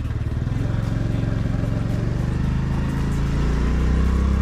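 A Honda Navi motor scooter's small engine runs steadily while being ridden, a loud, continuous low hum with a slight rise in pitch toward the end as it gains speed, close to the rider.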